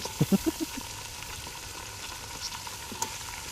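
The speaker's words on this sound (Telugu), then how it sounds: "ఇప్పుడు మనం పక్కకు తీసుకునే నాటుకోడిని ఇప్పుడు దాంట్లో వేయబోతున్నాం" Pieces of country chicken go into hot oil in a village kitchen for a Sankranti curry, giving a faint, steady sizzle with a few soft clinks and splashes near the start.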